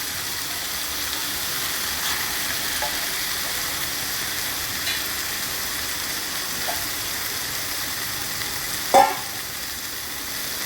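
Prawns sizzling in a pan with onion, tomato and ginger garlic paste, a steady close frying hiss throughout with a brief clatter near the end.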